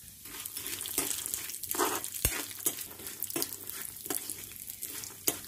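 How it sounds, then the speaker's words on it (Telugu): Finely chopped almonds and cashews fry in ghee, sizzling softly in a pan while a spoon stirs them, bringing periodic scraping swishes and one sharp clink, all close and fairly quiet. "ఈ రెండు కూడా కొంచెం కలర్ వచ్చేంత వరకు వేయించుకుందాం"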